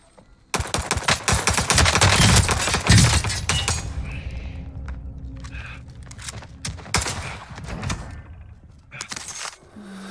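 Rapid, loud bursts of automatic gunfire and sharp shots in the Warzone video game crackle close by, dense for several seconds, then thinning into scattered cracks.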